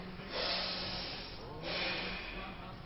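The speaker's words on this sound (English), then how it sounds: "Then inhale and exhale." Slow, deep breaths taken while holding a seated yoga posture, two long airy inhale-exhale swells close to the microphone over a low steady background.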